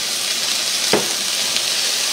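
Liver and onions frying in a pan give a steady, close, loud sizzle with a brief louder crackle partway through, and no talking.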